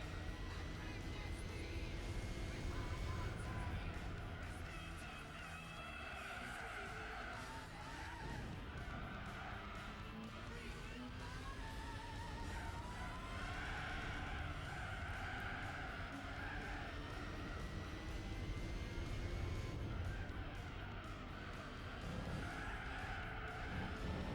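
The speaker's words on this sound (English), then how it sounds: "Get off the gravel! No, don't wheel spin into that." Race car engine and tire skid from Gran Turismo 4 as a car wheel-spins on gravel during an RX-8 cup race, a steady loud mix of revving engine and scrabbling tires with a streamer's voice talking over it.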